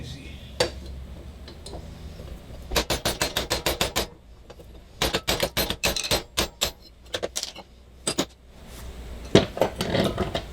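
A bearing is knocked out of the lower part of a lawn mower deck spindle on a classic lawn tractor, heard as rapid bursts of sharp metallic hammer blows in several close runs with short pauses between them.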